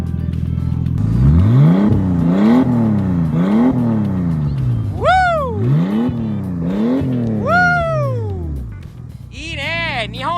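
A Nissan Skyline engine revs hard through the gears at top speed, the pitch climbing and dropping repeatedly with loud, close rising whines and sharp shifts, a voice speaking over it.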